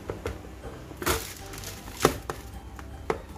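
Chili peppers sliced by hand with a knife on a board, a few distinct close chopping knocks spaced irregularly over a quiet background.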